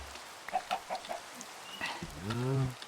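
Chickens in the Minecraft video game cluck in a quick series of short, clipped notes, followed by a longer drawn-out squawk, close by over a quiet background.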